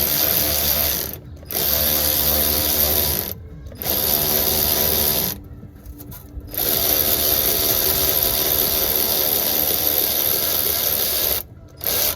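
A ratchet tightens an exhaust part on a Mazda Miata, giving loud, close, continuous clicking in several long runs broken by short pauses, with no talking.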